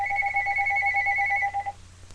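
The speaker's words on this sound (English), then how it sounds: "and my phone's ringing" A phone rings with a steady two-tone electronic trill for about a second and a half, close and clear, then cuts off into quiet room tone.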